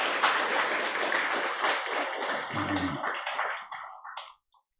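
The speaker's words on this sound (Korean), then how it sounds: "우리 축하의 박수 한번 치겠습니다." A church congregation claps together in congratulation, a dense, steady patter of hands that thins out and stops, with a few scattered last claps at the end.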